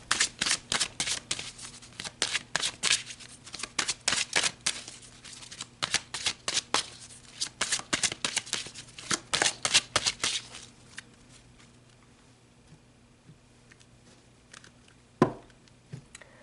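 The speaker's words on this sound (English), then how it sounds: "So let's pull some more cards." Tarot cards shuffled by hand during a reading, a long run of quick riffling flutters and soft slaps, close and clear, then tapering to a few quiet taps and one final knock.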